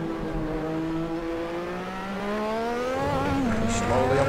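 A Lotus 98T race car engine in Assetto Corsa at Spa-Francorchamps climbs in pitch as the throttle is eased on, a close, loud revving whine with a little tire noise and no talking.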